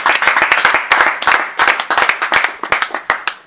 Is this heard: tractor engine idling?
no